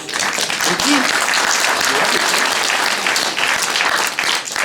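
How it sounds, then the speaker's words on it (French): An audience at a meet-the-actors session for a stage play gives a burst of applause, thick and even clapping held at full strength throughout with scattered voices mixed in. "Ça mérite quand même des petits applaudissements"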